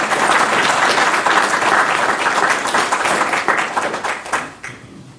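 A conference audience claps in welcome for a speaker at a talk on austerity, a full, steady round of applause that thins out and fades toward the end.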